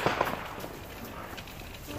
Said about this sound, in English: Got some fireworks.